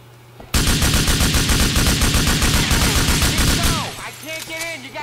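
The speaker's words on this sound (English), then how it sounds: "I need you to lay down some covering fire!" Rapid automatic gunfire from Grand Theft Auto IV erupts abruptly and rattles loud and close for about three seconds, then cuts off into lighter game sounds.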